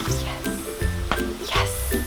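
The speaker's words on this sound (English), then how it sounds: "the hose is spewing everywhere" A garden hose on a front porch sprays water from a loose fitting. Close, uneven bursts of hissing spray and splatter surge and fade.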